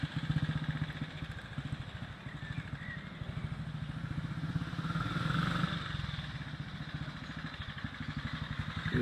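A 1943 Ariel WNG motorcycle runs past with a steady, throbbing single-cylinder beat that rises as it draws near and then fades slightly. The engine is fairly loud and fills the whole stretch on its own.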